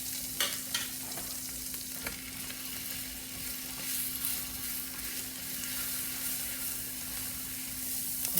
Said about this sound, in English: Now on this part of the griddle, I'm going to put some butter down.